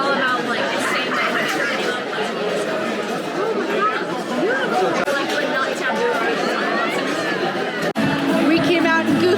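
Crowd of kids chattering and shouting around Goofy on a Disney cruise ship at sea, a dense, loud babble of young voices filling the whole stretch.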